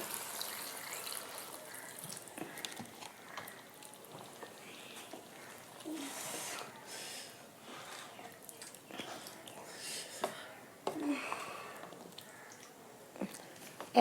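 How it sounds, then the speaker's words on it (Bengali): Water poured into a pan of papaya curry after the papaya has been fried with spices, a soft continuous liquid splashing and trickling that stays fairly quiet throughout, with a few small clinks and no talking. "এখন আমি জল দিয়ে দেব,"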